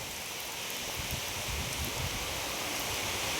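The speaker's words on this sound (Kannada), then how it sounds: "ತುಂಬ ಜೋರಾದ ಮಳೆ ಅಂತ ಮಳೆ ನೋಡಿ." Heavy rain with strong wind over a village in Karnataka, a dense continuous hiss of falling water with low rumbling gusts buffeting close by, no voices.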